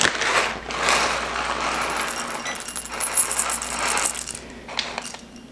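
Coffee beans being ground in a grinder for a red eye, a loud close rattling, crunching whir that runs for several seconds with brief dips and a short burst near the end, no talking.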